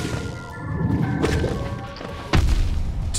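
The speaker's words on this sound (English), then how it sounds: "Man, that explosion is gigantic." Loud explosion bursts in the Hollow Knight video game, a series of heavy crashing thuds with a sharp, booming impact near the end, close and dense with no talk over it.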